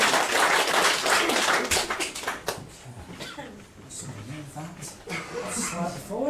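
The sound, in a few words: audience applause for a volunteer on stage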